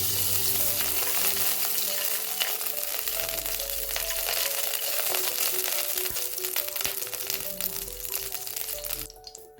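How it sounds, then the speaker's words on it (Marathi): Ghee heats and sizzles in a hot kadhai for sweet rice, giving a close, steady frying crackle with small pops and stirring scrapes throughout. No one speaks. "इथे मी एक कढई तापत ठेवली आहे, त्यात मी तूप घालून घेते."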